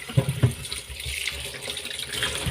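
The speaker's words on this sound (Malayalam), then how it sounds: "എല്ലാം ഒന്ന് കഴുകി." Tap water runs into a kitchen sink while vegetables are rinsed, a soft continuous splash with a few brief louder sloshes near the start, close and fairly quiet.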